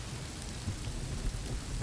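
Steady rain falls in the Rising World video game, a dense, continuous hiss of drops on the surface with a low rumbling undertone, even and moderately loud with no talking.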